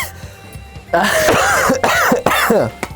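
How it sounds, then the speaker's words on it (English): A person who has just choked on water coughs hard in three or four loud, raspy bursts after a quiet moment, with throat-clearing rasps between the fits. "let me finish coughing before you even go on"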